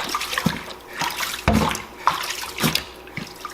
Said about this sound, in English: You want to agitate it for as long as you think till you're getting the water clean